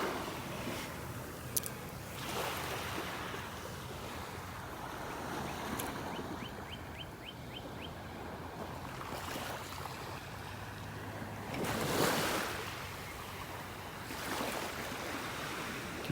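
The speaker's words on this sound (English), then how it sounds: "the waves rippling on the shore here." Gentle ocean waves ripple onto a beach shore in North Naples, Florida, a faint, soft wash with a couple of louder surges, while brief bird chirps sound in the background.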